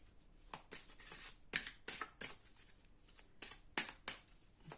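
Number oracle cards are shuffled in crisp, repeated bursts of papery flicking and snapping, close and clear with brief pauses between each handful.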